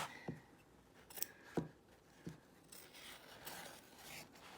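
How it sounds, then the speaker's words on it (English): Scissors trim embroidery stabilizer away from a zipper on an in-the-hoop zip bag, giving a few faint, close snips and light rubbing in a quiet room. "We're gonna come back here and we are going to trim away from our zipper all of this"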